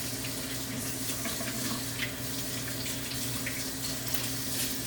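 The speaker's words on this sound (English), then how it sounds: "washing my hands" Tap water runs steadily into a sink while hands are washed in a home kitchen, a continuous close, fairly loud rushing splash with no pauses and no talk.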